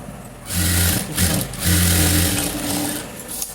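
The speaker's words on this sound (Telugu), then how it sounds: "నీట్గా ఇలా పెట్టేసి పైన స్టాఫ్ స్టిచ్ అనేది ఒకటి వేసుకోవాలి" A sewing machine topstitches fabric in two quick, loud mechanical runs of rapid rhythmic stitching, separated by a short pause.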